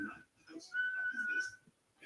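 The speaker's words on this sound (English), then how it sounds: "I'm really getting good at whistling" A person whistles a sustained, steady tone for about a second and a half, close and fairly loud, with brief talking-like sounds and background noise around it.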